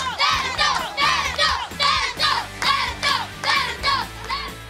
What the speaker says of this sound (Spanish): Desde las gradas del estadio saltan y gritan de la emoción.